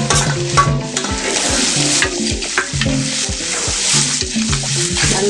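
Garlic sautés in a pan for banana flower gravy, giving a loud, continuous sizzle close by with rhythmic stirring scrapes throughout.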